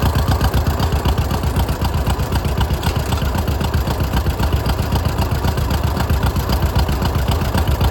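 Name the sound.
1938 John Deere L tractor engine running after hand cranking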